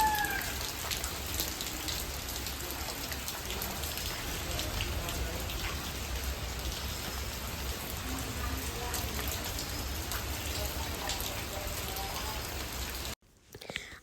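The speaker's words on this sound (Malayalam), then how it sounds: "ഇപ്പോഴും പുറത്ത് നല്ല മഴയാണ് ഞാൻ കാണിച്ചു തരാം" Heavy rain falls outside a house in a steady, close, full hiss of drops on surfaces, continuous for most of the stretch before cutting off abruptly near the end.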